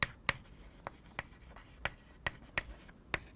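Chalk or marker tapping and scratching on a board during a machine-learning optimization lecture, a series of sharp, irregular strokes and taps that stand out clearly against a quiet room.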